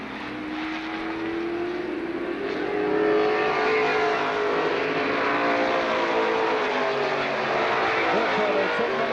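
Several race cars at Lorain County Speedway in Ohio go into turn 3, a steady loud engine roar with a rising-and-falling pitch sweep as the field passes, continuous for several seconds.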